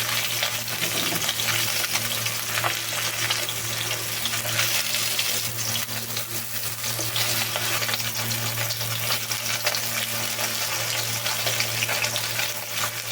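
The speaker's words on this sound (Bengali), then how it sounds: "এবার মাছগুলো উল্টে পাল্টে ভালো করে ভেজে নেব" Fish pieces frying in mustard oil, being turned over in the pan, give a steady, dense sizzle that runs evenly and fairly loud throughout, with no talking.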